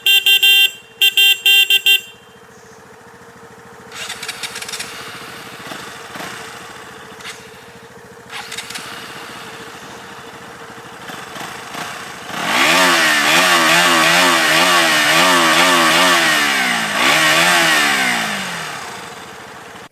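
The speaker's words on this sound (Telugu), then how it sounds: "ఇప్పుడు bike beating sound and horn sound ఎలా ఉంటుందో వినిపిస్తుంది నేను" KTM Duke 200 motorcycle, 2024 model: three loud bursts of horn honking at the start, then the engine idling with a rough beat and revving hard near the end before easing off.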